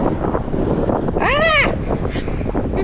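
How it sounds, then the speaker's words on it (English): Strong outdoor wind buffets the microphone in a constant low rumble, while a voice lets out a short exclamation midway. "It's really, really windy out here"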